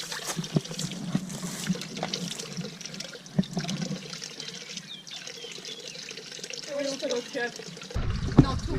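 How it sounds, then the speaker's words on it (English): Water runs from an outdoor tap in the Azores as hands are washed beneath it, a steady splashing trickle close by with people talking over it throughout. "You wash your hands on the tap."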